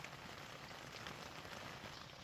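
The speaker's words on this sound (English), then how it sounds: "The rain is still going for it." Steady rain patters in a constant dense hiss outdoors on a walk from Arrochar to Lochgoilhead, with no voices.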